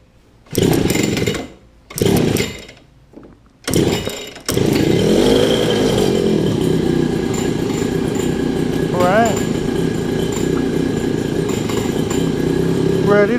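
A cat-eye super pocket bike engine sputters in three short bursts as it tries to catch, then starts and runs continuously with a buzzy, revving drone, close and loud, with a brief rev partway through.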